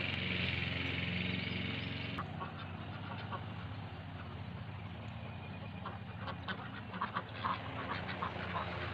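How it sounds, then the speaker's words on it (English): Ducks quack in short bursts, growing more frequent toward the end, over a low steady mechanical hum. "Come on duck duck. Duck duck duck."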